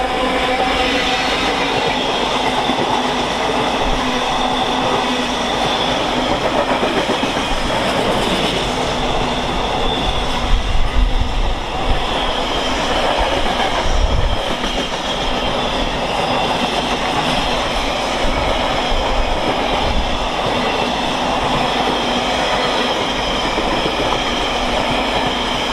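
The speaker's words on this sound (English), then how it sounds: "freight time again now with another 66, working from Trafford Park to Southampton" A Class 66 diesel freight locomotive hauls a Trafford Park to Southampton freight through Stafford station on the West Coast Main Line, a loud continuous rumble and wheel noise building to a peak midway with faint clatter throughout.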